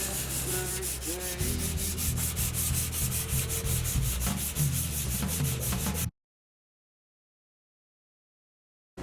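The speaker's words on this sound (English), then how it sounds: "These inner fenders are getting sanded in preparation for primer and paint." Inner fenders on a car are sanded ahead of primer and paint, a steady rasping scrub with rapid repeated strokes for about six seconds before stopping abruptly into silence.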